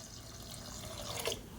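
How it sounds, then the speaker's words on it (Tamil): Water is poured into cooked dal while making paruppu kuzhambu, a faint, soft splashing trickle heard quietly in a kitchen, with a slightly stronger splash near the end. "இப்போ இதில் தண்ணி சேர்த்துக்கலாம்."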